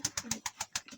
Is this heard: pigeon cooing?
yes